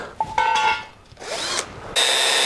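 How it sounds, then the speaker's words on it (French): A power drill works through stainless steel in a few short runs, its whine rising and cutting off, then holding steady and loud at the end with no talking. "il faut que je découpe ça, que je perce un trou là, que je perce un trou là"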